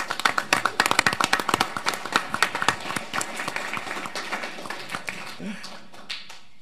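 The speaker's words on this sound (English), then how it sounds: "Can we give them a round of applause for making our city a little more beautiful?" Applause from those attending a city council meeting starts as brisk, fairly loud clapping, then thins and fades into sparser claps, with a voice faintly present underneath.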